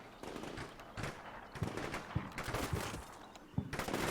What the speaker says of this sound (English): That is so many mortars.